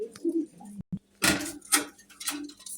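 Caged pigeons coo at a wholesale pigeon market, with low rolling coos in short bursts close by amid a busy, slightly noisy space.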